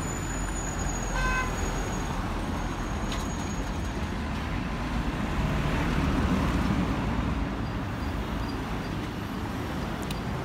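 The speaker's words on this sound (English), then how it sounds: "cars moving by all the time." Steady traffic in the busy Gambian town of Brikama, a constant wash of passing cars and engines with a couple of faint horn toots early on, heard from nearby without talk.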